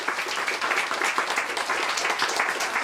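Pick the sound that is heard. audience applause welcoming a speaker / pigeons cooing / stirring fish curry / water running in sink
audience applause welcoming a speaker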